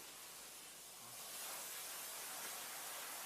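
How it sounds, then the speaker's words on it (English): Steady hissing spray of expanding foam forced from an aerosol can, a continuous airy rush that swells slightly louder partway through, heard alone and fairly faint. "this guy is just trying to open a can of foam and spraying it"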